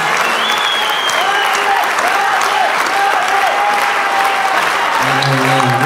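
Audience applause at a charity concert in the Oratorium in Bochnia, steady loud clapping throughout, with a brief musical tone near the end.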